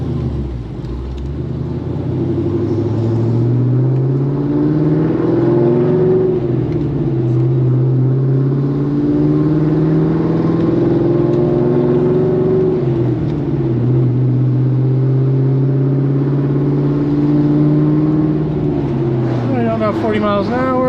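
A Pontiac GTO fitted with Wilwood big brakes drives along while its brakes are bedded in, its engine humming and droning steadily with gentle pitch shifts, close and continuous throughout.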